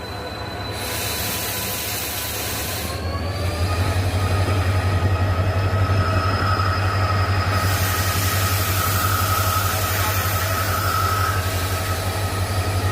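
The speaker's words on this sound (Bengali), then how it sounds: "লোকো পাইলট JN আনসারি ও জি ঘোষের তৎপরতায় ট্রেনের গতি নিয়ন্ত্রণ করে এবং হাতিকে রেল লাইন পার হতে সাহায্য করে।" A train passes on a forest railway line where elephants cross, with a loud continuous rumble of wheels on rails, a droning engine and faint squealing tones, which hold steady and close for the full stretch.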